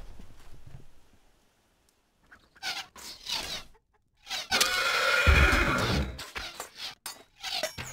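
A horse neighs in the medieval strategy game Stronghold Legends, a loud breathy whinny lasting about two seconds in the middle, between shorter bursts of game sound.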